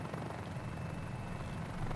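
Helicopter in a flight simulator game: a steady, dense rotor and turbine drone that holds at an even level throughout, close and continuous with no talk over it.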